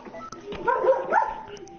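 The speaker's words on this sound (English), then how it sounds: "That's my dad's dog. It's in the background" A dog growls low and rumbling in the background of a room, a short continuous snarl that swells and fades over a couple of seconds, moderately loud.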